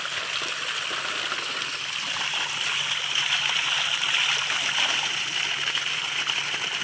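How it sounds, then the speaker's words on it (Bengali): Cold water gushes steadily during a bath in a West Bengal village, a constant close rushing splash that holds even throughout, with no talk. "দারুণ জল বেরোচ্ছে।"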